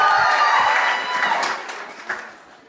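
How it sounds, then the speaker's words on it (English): A conference audience gives a short burst of applause that starts full and fades out over a couple of seconds, with a few voices and cheers mixed in. "Give Jalen a round of applause."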